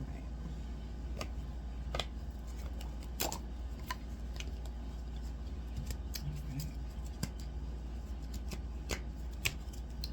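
Gold-edged oracle cards are shuffled by hand, giving a steady soft riffling with sharp snaps and flicks recurring throughout, close by over a low background hum.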